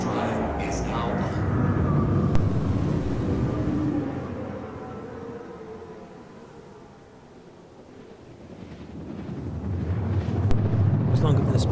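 A quantum drive spools up in the space game Star Citizen as a broad engine roar that swells, dips to a low hush midway, then surges back. A voice talks over it.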